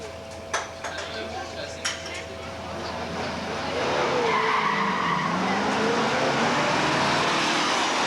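A 1967 Camaro with a 396 and four-speed lining up against another muscle car in a first-round elimination drag race at Beech Bend in 1985, a few sharp clacks and then a rising, swelling roar of engines and tyres launching away.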